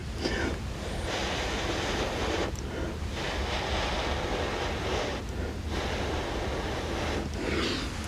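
Air is blown onto acrylic pour paint to open up an iridescent bloom for spin art, giving a steady, close, rushing breath-like hiss with a few brief dips, and no talking.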